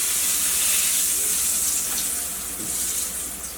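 Wild turkey nuggets frying in hot oil, a steady close hiss and sizzle that runs unbroken from start to finish with no talk over it.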